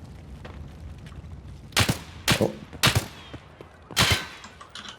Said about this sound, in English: We hear some gunfire